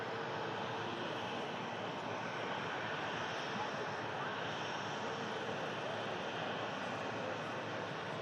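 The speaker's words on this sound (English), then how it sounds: "next aircraft to touch down is going to be an EasyJet aircraft coming in from Milan, A320 aircraft" An EasyJet Airbus A320 arriving from Milan comes in to land, a steady, broad engine roar holding at an even, fairly loud level throughout with no break.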